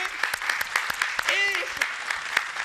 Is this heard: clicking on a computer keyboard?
no